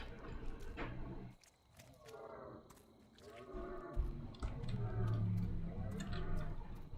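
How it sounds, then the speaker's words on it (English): Deer in the horror video game The Cursed Forest give strained, wavering cries in several separate bursts, fairly quiet and set against low rumbling ambience and scattered clicks. "I don't like that I can hear the deer."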